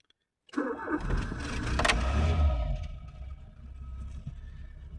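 A Citroën BX 16 TRS petrol engine cranks and catches close by after silence, roaring up loudly before settling into a steady idle.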